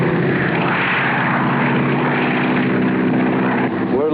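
A propeller airplane drones steadily and loudly throughout in a 1956 wilderness serial, a continuous engine hum with no break.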